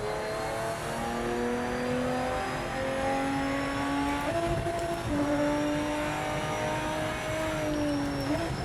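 Engine of a Lister Storm race car in the racing video game Project Motor Racing, a loud continuous drone rising and falling in pitch through gear changes as it accelerates, alone with no talk.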